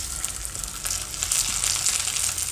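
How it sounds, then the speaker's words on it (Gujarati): Boiled potatoes hitting hot oil tempered with cumin, bay leaf and asafoetida, a bright, continuous close sizzle that swells slightly toward the end, with no voices. "હવે એમાં આપણે આ બટેટા નાખી દઉં બાફેલા"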